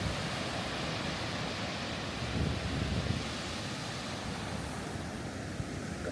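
Ocean surf on a quiet beach in Portugal, a steady, broad wash of waves with a slight swell midway, moderately faint and heard alone with some wind noise.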